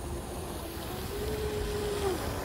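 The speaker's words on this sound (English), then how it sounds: "Got some kids over there running RC boats." A small RC model boat motor whines steadily at mid pitch on a pond, rising slightly then cutting off, over a broad outdoor rumble of wind and water.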